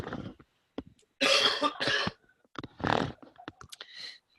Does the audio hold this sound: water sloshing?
no